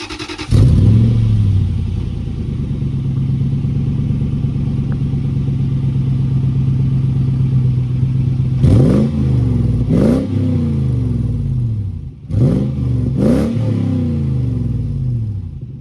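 A V8 Toyota 4Runner (4th generation) with an aftermarket off-road exhaust idles with a steady low rumble, then barks through several sharp revs, each surge rising and dropping back.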